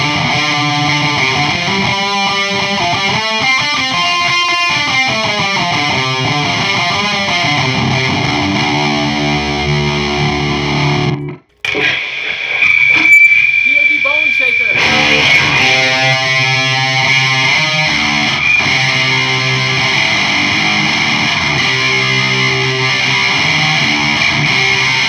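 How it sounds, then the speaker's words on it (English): Electric guitar through an MXR Double Overdrive pedal into a Randall Diavlo RD1H amp chugs and rings with a gritty, saturated tone, with a short gap partway before the crunchy riffing resumes loudly to the end. "MXR Double Overdrive."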